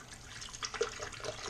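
Water pours from a bottle into a protein shake made with espresso, a soft, uneven splashing trickle that lasts under two seconds, quiet and with no talking.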